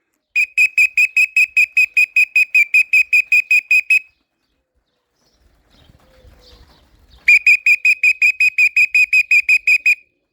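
Two bursts of rapid, evenly spaced shrill whistle blasts calling pigeons, loud and close, separated by a quiet gap with faint low rustling.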